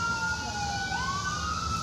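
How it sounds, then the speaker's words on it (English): An ambulance siren wails steadily as it passes, its pitch sliding down then back up, over a low rumble of traffic, with no voices. "There's an ambulance going by."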